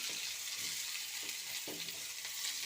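Fennel seeds and onion fry quietly in a pan, a soft, even sizzle with a few faint stirring scrapes, close but low in level.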